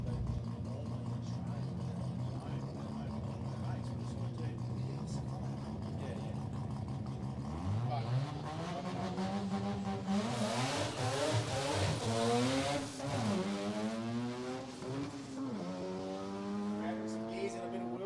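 A drag racing car makes a quarter-mile pass at a billet-class event. A droning engine sits under steady talk, then it rises into a loud, rising howl as the car launches and accelerates away.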